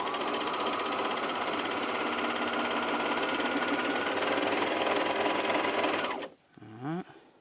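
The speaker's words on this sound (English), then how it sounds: "this serger is amazing" A Juki MO2000QVP serger stitches a shirt seam with a steady, loud mechanical whir and rapid stitching rattle for about six seconds, then stops abruptly, leaving a few faint handling clicks.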